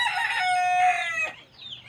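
A rooster kept in a pen gives a single loud, close crow that rises and then drops away, followed by a quieter trailing call.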